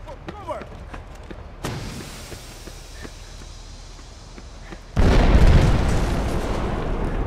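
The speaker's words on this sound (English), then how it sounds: "Grenade!" Grenade blast in a video game: a sudden loud broadband burst lands about two-thirds of the way through and rolls into a sustained roar. Before it come quieter game noises and scattered footstep-like thumps.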